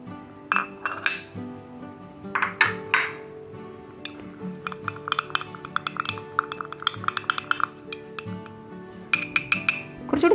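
A spoon clinks repeatedly against a glass bowl while stirring a homemade potato juice face pack, bright irregular taps in quick clusters and short pauses, close and clear with no talking.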